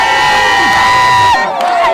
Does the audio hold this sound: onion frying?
no